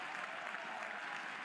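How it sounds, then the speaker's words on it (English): A crowd applauding a defensive stab at a college softball game between Oklahoma and Mississippi State, a brief, faint wash of distant clapping heard alone. "Round of applause from the crowd for just the stab on this defensive play"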